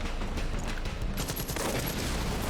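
Automatic rifle gunfire in the video game Far Cry 5 rattles in dense, continuous bursts for a couple of seconds, loud and alone with no talk.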